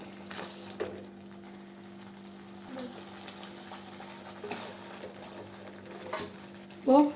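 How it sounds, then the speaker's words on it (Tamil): Tomatoes sauté in a pan for egg kurma with a soft, steady sizzle over a constant low hum, broken by occasional stirring scrapes and a louder stir at the end. "கொஞ்சம் இந்த தக்காளியோட பச்சை ஸ்மெல் போகிற வரைக்கும் நல்லா வதங்கணும்"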